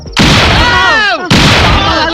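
Bomb explosion sound effect in a Telugu comedy film scene: a loud broadband blast with a falling whistle-like tone, cut off abruptly and followed at once by a second roaring burst.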